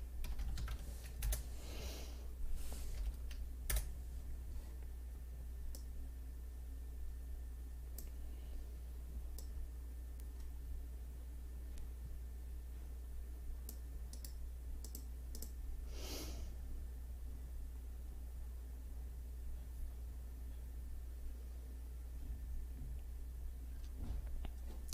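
Keys are tapped on a computer keyboard while a password is entered on a Linux host system, giving quiet, scattered clicks in short bursts against a low, steady hum.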